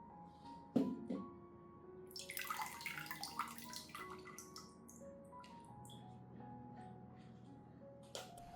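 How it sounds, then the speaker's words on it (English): Water poured onto potting soil around the base of an orchid, a quiet splashing trickle that swells briefly then settles into soft drips and gurgles, close and alone. "I water a moderate amount around the base, avoiding overwatering to prevent waterlogging"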